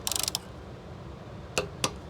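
A torque wrench on the cylinder head bolts of a Honda GX140 engine: a quick run of ratchet clicks at the start, a quiet pause, then two sharp separate clicks.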